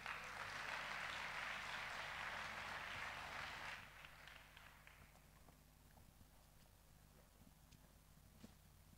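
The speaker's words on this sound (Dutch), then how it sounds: "Geef ze een groot applaus." A festival audience at Paaspop 2015 gives faint, distant applause for about four seconds before it dies away, leaving quiet room tone with scattered small knocks.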